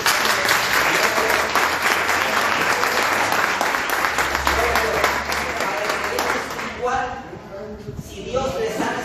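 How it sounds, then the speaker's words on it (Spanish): A church congregation claps together in a strong, sustained burst of applause that fills the room, thinning and fading toward the end as voices emerge. "Den una fuerte de palmas a Dios"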